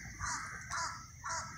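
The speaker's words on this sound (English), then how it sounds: "And then you got the crow up here." A crow caws three times in steady succession, each call harsh and fairly close, heard alone outdoors.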